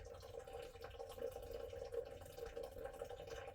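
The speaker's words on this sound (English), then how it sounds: "This spigot isn't very fast. We're going to turn that on." Water runs slowly from a spigot into a container inside a deer blind, making a faint, steady trickle with a continuous hollow filling tone and light splashy flutter.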